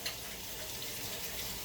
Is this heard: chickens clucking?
no